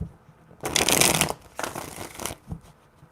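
Tarot cards shuffled in a few close bursts: a long riffling rush, a second shorter riffle, then a brief tap, with no voices.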